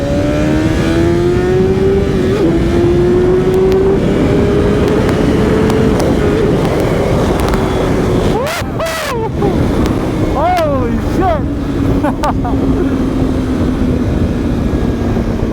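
A 2021 BMW S1000RR sport bike with its rev limiter removed accelerates hard on a highway, its engine holding a loud, steadily rising howl through a gear change amid heavy wind rush, while a rider speaks over it.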